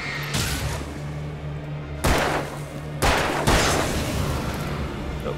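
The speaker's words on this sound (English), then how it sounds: "Reload the gun, Alan." Video game gunfire erupts in dense, loud bursts, with heavy volleys hitting in sharp waves around a continuous roar of shots and no voices over them.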